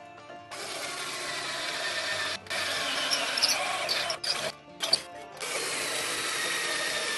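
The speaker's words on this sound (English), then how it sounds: "I'm going to drill these through the frame" A power drill whirs steadily through a flat deck trailer's metal frame, running almost continuously with a few brief pauses and restarts, close by and loud.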